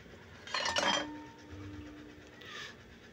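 Utensil stirring sautéed mung beans in a pot gives a brief cluster of metallic clinks and scrapes, then quieter scraping a moment later, close and with no talking.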